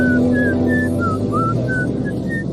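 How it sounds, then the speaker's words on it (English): Someone whistles a short, bright tune in quick separate notes, nearby, over a steady low hum and background noise. "That you whistling in there, Bill?"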